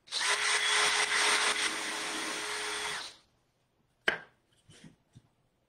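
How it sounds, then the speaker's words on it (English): A power drill drilling into wood whines loudly and steadily for about three seconds, then stops, followed by a few sharp knocks and clatters. "You wanna make sure your drill is as straight up and down as you can manage it."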